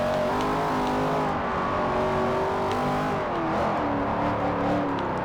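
In the Forza Motorsport 4 racing game, a Chevrolet Corvette C6 ZR1 engine roars continuously and loudly, its pitch rising and falling as the car works through corners, with faint tyre noise at times.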